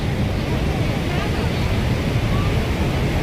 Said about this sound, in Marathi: हे बघा भेडाघाट येथील नर्मदा नदीवरील धुवाधार धबधबे